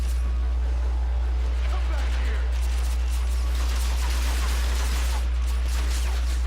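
Rapid bursts of energy-weapon fire from a path blaster in the video game Transformers: Fall of Cybertron crackle over a constant low hum and game noise, with a voice speaking throughout.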